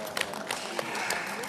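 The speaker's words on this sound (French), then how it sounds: "On peut applaudir." Brief scattered applause from attendees at a municipal council meeting, a few claps rising out of a steady room murmur, moderately distant and soft.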